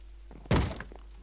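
Minecraft mob banging on a wooden door to break it: one heavy, close thump with a short rumbling decay, standing alone against a quiet background.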